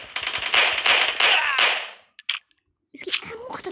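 Rapid automatic gunfire in the mobile shooter Cover Strike, a fast burst of close sharp shots that stops suddenly, followed by brief scattered shots and game sounds after a short gap.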